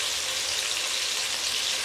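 Tomatoes, capsicum and ginger-garlic paste fry in a pan for aloo ka bharta, giving a continuous, even sizzle throughout with no voices.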